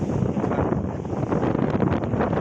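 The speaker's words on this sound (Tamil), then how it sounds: "அந்த மாதிரி காற்று செம காற்றுங்க அடியாட ஆடுது" Strong gusts of wind blow steadily around a swaying tree outdoors, a loud, continuous rushing buffet pressing close against the microphone with no pauses or voices.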